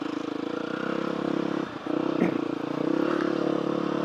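A motocross bike engine idling and running steadily close by, with a continuous rough buzzing drone, a brief dip in the middle and a clattery bump before it carries on.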